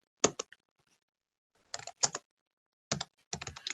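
Short bursts of keyboard typing, a quick cluster of clicks, then a pause and two more clusters of rapid keystrokes, close and fairly quiet.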